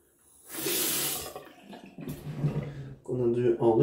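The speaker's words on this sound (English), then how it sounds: "Long rinse there, hard soap to get off." Running water from a tap splashes steadily for about a second and a half as a razor and face are rinsed after a shave with a Gillette Fatboy, then gives way to quieter handling and voices talking.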